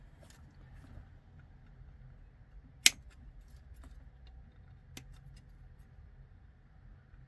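A plastic Warhammer 40,000 Ork Mega Nob part is snipped off its sprue. One sharp, close cutter snip sounds midway, a softer click follows later, and there is a quiet room hum underneath.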